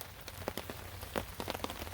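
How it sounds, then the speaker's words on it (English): Rain falling at night by a river near a campsite with a military surplus tent, steady soft patter with scattered louder drops striking a nearby surface, close and continuous. "Rainy night on the river."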